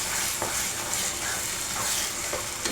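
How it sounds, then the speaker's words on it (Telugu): Ghee bubbling and sizzling in a kadai while pumpkin kheer cooks, a continuous close frying crackle with faint stirring scrapes and no talk. "చూడండి నెయ్యి అంతా కూడా దీంట్లో నుంచి ఉడికి సపరేట్ అవుతుంది బబ్బుల్లాగా"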